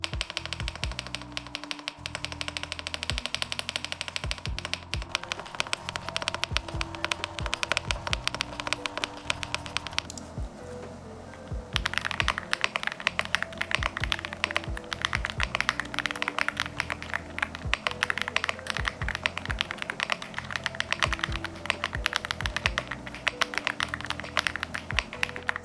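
Rapid clacking keystrokes on a Weikav WK68 budget mechanical keyboard, steady dense typing close up with a brief lull midway, no voices.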